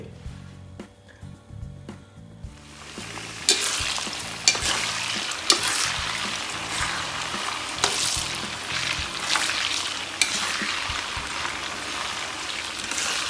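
Garlic frying in hot oil in a pan while being stirred, a loud, continuous sizzle with scraping stir strokes that starts after a few quiet seconds and stays close and steady.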